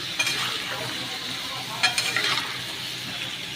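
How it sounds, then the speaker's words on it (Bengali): Pointed gourd with salt and turmeric fries in a pan, a steady hiss of sizzling oil broken by a few light scraping stirs partway through. "এটা ভাজা যাক, লাল লাল করে ভাজি।"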